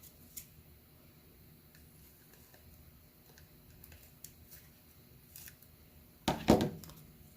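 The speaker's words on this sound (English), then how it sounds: "see how big your plastic needs to be, and then you're going to go ahead and cut down if necessary" Scissors slicing through a plastic sheet while making junk-journal specimen cards: a long quiet stretch of faint ticks, then one short, crisp, close cutting burst near the end.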